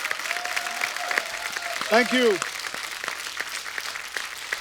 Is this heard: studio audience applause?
yes